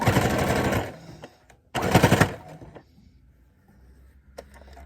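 Sewing machine tacking down the binding on a pleated cloth face mask, two short loud bursts of rapid needle stitching with a pause between, then quiet handling clicks.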